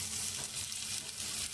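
Ginger and garlic hit hot oil in a pan with a steady, bright sizzle, close and continuous, with no voices over it.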